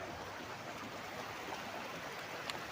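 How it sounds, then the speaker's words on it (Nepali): A river stream rushes steadily nearby where fishing is going on, a continuous broadband wash of flowing water with no breaks, loud and close and heard alone. "यहाँ पानीको आवाजले गर्दाखेरि हाम्रो साउन्ड आउँदैन होला राम्रोसँग"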